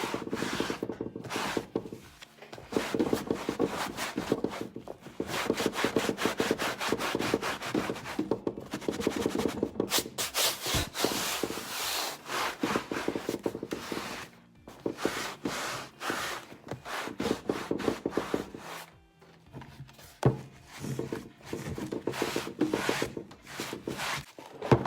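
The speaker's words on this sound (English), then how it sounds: "I'm going to just grab a nice clean cloth. And I'm going to wipe that excess off." A clean cloth wipes excess Fusion paint off painted upholstery in steady back-and-forth rubbing strokes, close and continuous, with a few brief pauses and no speech.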